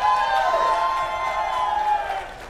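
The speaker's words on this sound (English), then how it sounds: "That was a loud cheer" A StarCraft esports tournament crowd cheers and whoops loudly in one sustained burst at match point, fading slightly toward the end.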